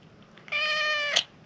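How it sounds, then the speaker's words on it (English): A cat gives a single sustained, clear meow of roughly 0.7 seconds, rising slightly at the end, moderately loud and close against a quiet room with no talking. "You're a very noisy cat."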